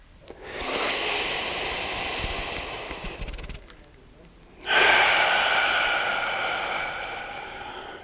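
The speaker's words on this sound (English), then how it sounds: "one thing you can do is just slow down your breathing" A single slow, deep breath is taken close to the microphone during a podcast on digestion and gut health. A long airy inhale is followed by a pause, then a louder, drawn-out exhale.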